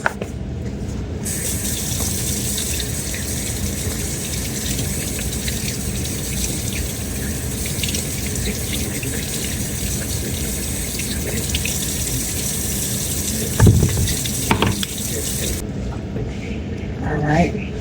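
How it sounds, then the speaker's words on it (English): Tap water runs steadily into a kitchen sink as sweet potatoes are rinsed for Thanksgiving prep, a continuous close splashing stream with a few knocks near the end before it shuts off. "let me rinse the sweet potatoes"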